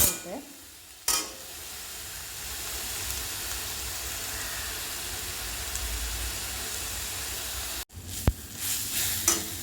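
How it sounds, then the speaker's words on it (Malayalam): Onions and tomatoes frying in a little oil for an egg roast, a loud, steady, close sizzle with a few clatters of stirring near the start and end. "തക്കാളി ചേർത്തിട്ട് നന്നായിട്ട് ഫ്രൈ ചെയ്തെടുക്കാം"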